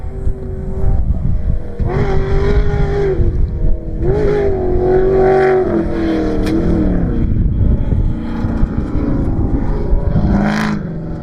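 A Ford Bronco Raptor with a swapped 7.3 Godzilla V8 and 10-speed automatic accelerates with a loud, sustained engine roar, its pitch rising and falling through gear changes, close and continuous with no speech.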